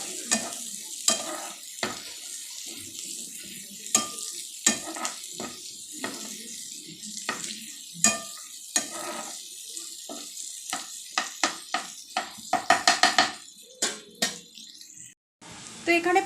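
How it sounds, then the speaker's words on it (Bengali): Cashews and onions frying together in a pan: repeated scraping stirs over a soft sizzle, irregular at first and then quickening into a dense run of strokes near the end. The sound is close, with brief talking mixed in. "দিয়ে দিলাম এই কাজু বাদামগুলো হালকা হালকা পেঁয়াজের সাথে ফ্রাই হয়ে যাবে"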